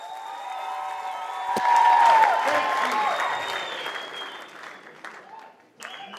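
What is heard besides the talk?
audience applause at comedy show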